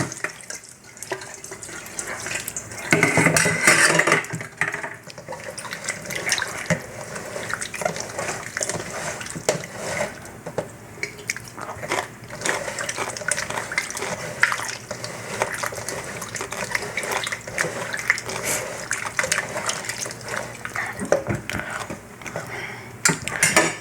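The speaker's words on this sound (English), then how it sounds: "Rinse them a little more." Pickle cucumbers rinsed under a running tap: a steady close hiss and splash of water, with occasional brief knocks and surges as the cucumbers are handled, continuing without talk throughout.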